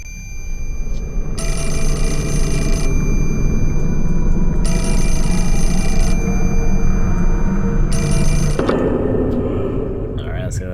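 An in-game telephone in Fatal Frame 4 rings in three long, loud, evenly spaced bursts over a steady rumbling ambient drone, ending in a sharper handling sound.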